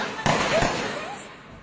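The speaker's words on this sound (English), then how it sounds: "The shooting was caught on camera by this terrified bystander." Two sharp gunshots from military forces firing at protesters ring out a short moment apart, loud against a noisy street background.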